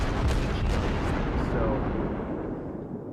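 Heavy 203 mm naval cannon from a cruiser in a warship video game, a deep booming blast with a long rolling decay, and a voice says a word over it.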